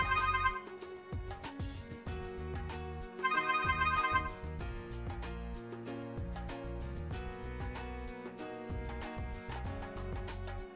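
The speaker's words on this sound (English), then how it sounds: "Press the button you assigned the Indoor Touch to and it should start ringing." A 2N Indoor Touch intercom panel rings indoors, a repeating electronic ringtone with bright melodic bursts recurring over several seconds, loud and close with no talking.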